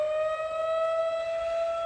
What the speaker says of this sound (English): We just got to deal with the siren